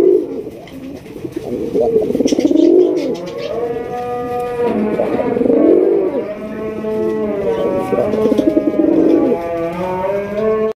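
Pigeons at a pigeon farm coo in repeated, rolling bursts, loud and close, several birds overlapping throughout.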